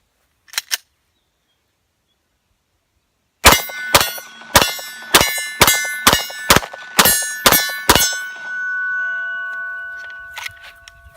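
A Glock 17 pistol fires ten hand-loaded rounds outdoors in a steady, evenly spaced string of sharp, loud, close reports with ringing echoes. A short knock comes first, and a faint rattle follows the last shot.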